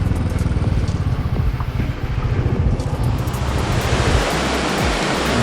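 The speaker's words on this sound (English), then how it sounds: "There's a big outlet which falls from quite a height," Water falls from a high waterworks outlet at Drang, Kashmir, making a loud, steady roaring rush with a low rumble, continuous and close.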